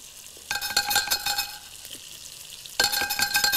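Butter melting and sizzling in a saucepan while a roux sauce is started for a fish dish, a close crackling fry that swells loudly in two bursts with a quieter stretch between, no talk.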